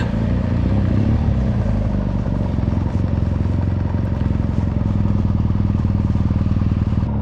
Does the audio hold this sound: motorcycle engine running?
yes